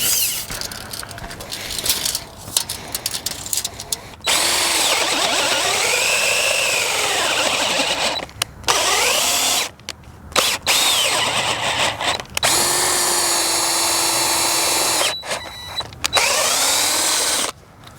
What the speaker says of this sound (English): This is probably a lot to ask for a battery powered drill.